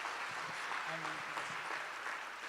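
Church congregation applauding in a worship service, steady crowd clapping heard at a distance and fairly quiet, with faint voices mixed in.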